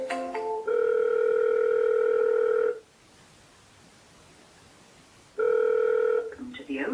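Outbound mobile call placed through the Go High Level platform: two long ringback tones, each lasting about two seconds with a pause between them, loud and clear with no talk over them.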